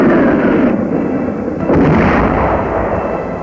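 Mortar and artillery fire in a World War II battle near San Pietro, a loud sustained rumble of blasts with a heavier detonation midway, continuous throughout.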